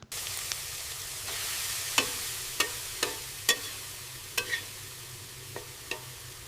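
Bajji fritters frying at a cartoon snack stall, a steady low sizzle with a series of sharp clicks and taps scattered throughout, moderately close and without speech.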